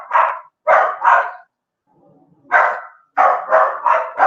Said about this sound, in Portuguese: meu cachorro tá bravo aqui